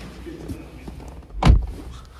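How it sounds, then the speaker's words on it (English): A single close, dull thunk from a Lucid Air Grand Touring Performance as its pop-out door handle moves, a short solid knock standing alone against quiet surroundings. "Pop out door handles."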